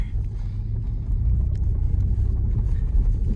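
A Saab 900 drives away from a paddock with a steady, low engine rumble that grows slightly louder partway through, heard from inside or close by.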